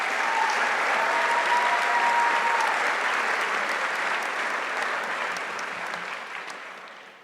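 Full, sustained applause from a large crowd at a university athletics hall of fame ceremony honoring inductees, a dense wash of clapping and faint cheering that holds steady then slowly fades.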